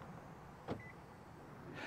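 A 2026 Kia K5 GT locks from the key fob button, giving a single soft latch thunk followed by a brief faint chirp over a low steady background hum.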